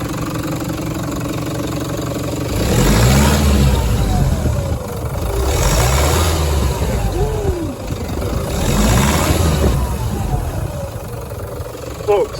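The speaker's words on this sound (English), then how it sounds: "can you just give it a little rev so we can hear the turbo?" A car engine with a turbo revs in three distinct bursts, each rising and falling over a steady idle, close and loud, with someone talking between revs.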